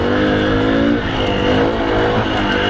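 A 1997 Honda CL50 Benly motorcycle's small engine runs steadily up close, a loud continuous buzzing idle with a rich harmonic drone that holds without a break.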